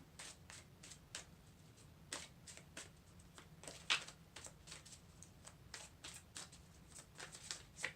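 Tarot cards being shuffled by hand during a yearly reading, a steady run of soft, papery riffles and flicks close to the listener with no one talking.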